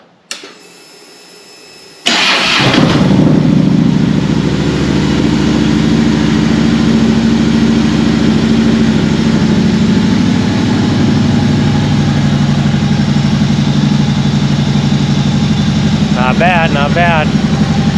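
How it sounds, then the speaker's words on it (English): A Harley motorcycle engine cranks and fires up about two seconds in after a brief quiet stretch, then settles into a loud, steady, rumbling idle that continues to the end, close to the listener. "I'm gonna fire up the bike right now"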